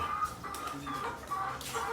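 Desi chicks and chickens clucking on a Punjabi farm, with repeated close, moderately loud clucks and chirps that run steadily.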